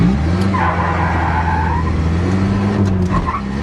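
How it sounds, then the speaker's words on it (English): A 1981 Chevy LUV diesel 4x4 truck is driven hard in second gear, with a close, loud engine drone and a brief squeal of tires scratching on the pavement. "We'll see if we can't get a second gear scratch here again."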